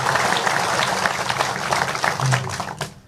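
An audience at an Islamic religious study gathering applauds steadily for a few seconds, dense clapping that fades out near the end.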